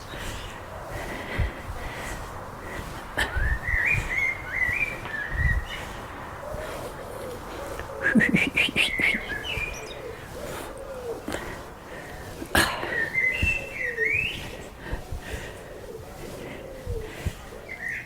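Birds trill, call and chirp in short bursts in the evening over a soft background hum, with occasional clicks and rustles nearby.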